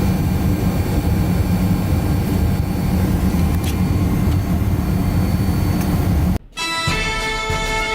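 Steady, loud jet-airliner cabin drone with heavy low rumble on a 7-hour flight, cut by a brief dropout near the end before the hum resumes with a brighter tonal whine.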